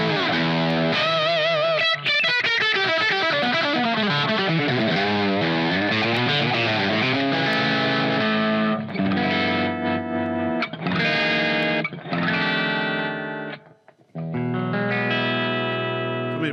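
Distorted electric guitar through a small Positive Grid Spark modeling amp with heavy effects plays sustained chords and rhythmic strums, then choppy stabs with brief gaps, loud and alone without talking.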